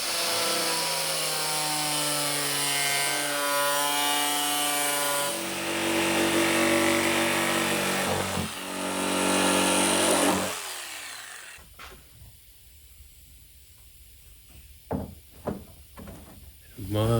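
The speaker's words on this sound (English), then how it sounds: "We just have a little bit more trimming to do." A power tool trims material around the air filter of a Viper V10 engine being fitted into a Nissan 240SX, buzzing loudly and steadily for about ten seconds, then cutting off, followed by scattered knocks and clatter in a quieter shop.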